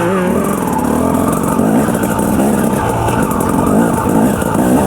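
A 2007 KTM 250 EXC dirt bike rides over rocky ground, its engine buzzing loud and close with constant fluctuating revs throughout and no talk.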